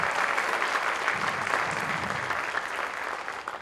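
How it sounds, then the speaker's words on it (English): An audience applauding a student at a career and technical education celebration, continuous hearty clapping from a crowd, close and even throughout. "So that's a big clap right there."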